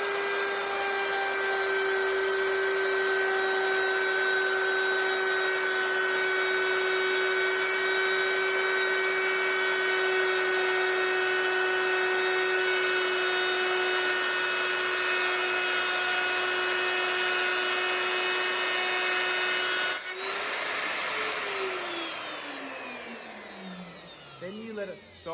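Wood router cutting a rabbet along a board edge, a loud steady motor whine held for about twenty seconds, then spinning down with a falling pitch after it stops.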